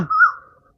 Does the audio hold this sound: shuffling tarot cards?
no